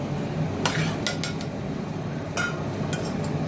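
Cashews being stirred into roasted vermicelli in a pan for semiya burelu, with a few sharp clinks of a spoon against the pan over a steady low background.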